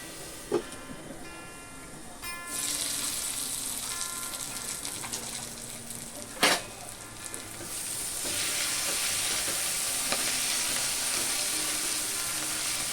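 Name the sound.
capsicum (bell pepper) cooking in a pan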